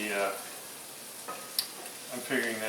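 Garlic sizzles in bacon fat in a pan, a soft steady frying hiss with a few faint clinks of a utensil, partly under a voice.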